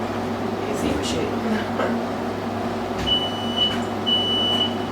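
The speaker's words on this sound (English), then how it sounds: "Smoke detector." A kitchen smoke detector chirps in short, high beeps set off by chicken under the oven broiler, sounding twice near the end over a low steady hum while a person talks.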